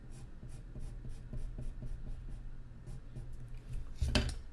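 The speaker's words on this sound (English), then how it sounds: "next thing we'll do is draw a bunch of lines, horizontal lines," A pen or marker scratching a series of short horizontal lines onto a saxophone reed, faint repeated strokes in a steady rhythm over low room hum, with one louder scrape near the end.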